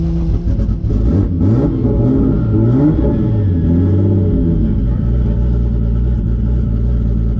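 A car engine revving hard up close as the tire spins, rising and falling whine over a deep, steady roar with no break at a drag-racing event.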